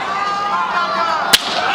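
A single loud open-hand slap cracks sharply across the face at a Power Slap striking event in an arena, one abrupt impact standing out over a steady roar of crowd noise.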